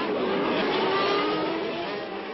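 A racing car engine built for peak power near 10,000 to 12,000 rpm screams at very high revs, a loud, steady, high-pitched whine that eases slightly toward the end.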